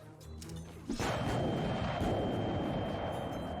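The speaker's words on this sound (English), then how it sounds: "The rage of battle and deafening rumble of gunfire render the noble riders blind and deaf to your approach." Battle noise from The Life and Suffering of Sir Brante: after a quieter opening, a sudden heavy blast gives way to a sustained loud rumble of gunfire and crashing that continues to the end.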